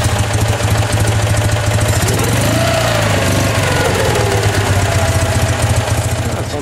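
A vintage Citroen Dyane engine runs steadily outdoors, a loud, close, rough, throbbing mechanical drone that carries evenly throughout, with no speech.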